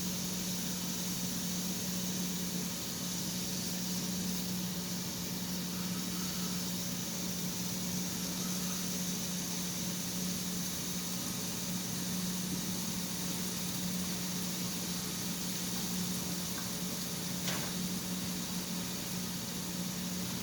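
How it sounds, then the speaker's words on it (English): Steak searing in a hot pan for a peppered steak, a steady broadband sizzle with a low hum underneath, continuous and even throughout. "You'll want to sear it for about 3 or 4 minutes."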